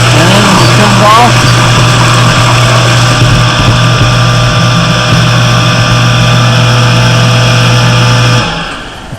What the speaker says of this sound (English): And the pump should kick in.